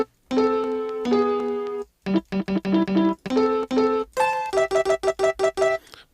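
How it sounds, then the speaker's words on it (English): Short micro-chopped fragments of a 1970s German vinyl record repeat in a choppy, stuttering rhythm, tonal bursts cut off abruptly with brief gaps between them, no voice present. "So now that we have two micro chops, the first one sounds like this."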